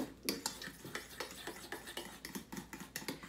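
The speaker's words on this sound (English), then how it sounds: "Okay, mix that." Egg, butter, flax meal and almond flour being stirred in a bowl for a low carb breakfast, with a steady run of scraping clinks of utensil against the bowl, close and moderately loud, and no talking.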